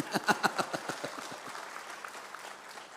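A church congregation claps during a sermon, starting with several clear, rhythmic claps that soon thin into a faint, scattered patter, heard from some distance and fairly quiet.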